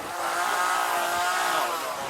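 A chainsaw carves wooden logs into sculptures at a storefront in Seattle, its engine holding a steady, buzzing whine at close range for about two seconds with no talking.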